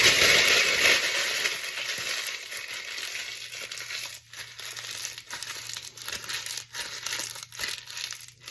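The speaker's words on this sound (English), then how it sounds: "what you want to do is you want to crumble the parchment" Parchment paper is crumpled by hand in a kitchen, giving dense, crackling crinkles that are loudest at first and then ease into softer, intermittent rustles.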